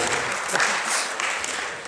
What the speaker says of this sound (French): On peut applaudir Philippe